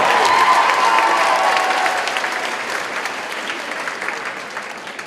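A school talent show crowd claps loudly for a performer, with some cheering mixed into the start, and the applause gradually tapers off over several seconds.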